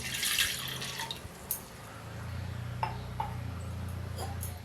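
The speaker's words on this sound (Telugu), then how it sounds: "ఒక గ్లాస్ వాటర్ పోసుకుందాం." Water splashes and pours briefly into a pot on a stove, a glassful for cooking idiyappam, followed by a low steady hum and a few faint clinks.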